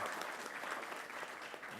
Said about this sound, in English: I see that you guys want to clap for him.